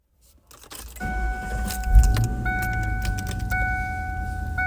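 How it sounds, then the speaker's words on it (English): A Ford car engine cranks and catches, preceded by a few quiet clicks, then settles into a steady close idle with a faint high whine running over it; no one speaks. "so that you can hear the car starting"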